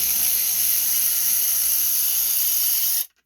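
Socket wrench ratcheting steadily on 5/16 bolts of a John Deere 25 hp riding lawn mower, a fast continuous clicking close up that runs for about three seconds and then stops abruptly.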